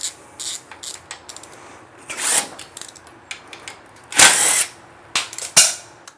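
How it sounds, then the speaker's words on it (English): A torque wrench ratchets on motorcycle clamp bolts and a steering stem nut on a Gixxer 250 build, giving bursts of quick clicking pawl sounds in short irregular runs, close up with pauses between. "So got to get those all down to torque."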